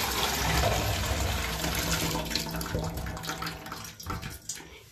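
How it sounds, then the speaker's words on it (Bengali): Hot water poured off soaked cauliflower into a sink, a loud steady rushing splash that thins and breaks into trickles toward the end, no talking. "এবার আমি নামিয়ে নেব গরম জল থেকে, জলটাকে ফেলে দেব আমি"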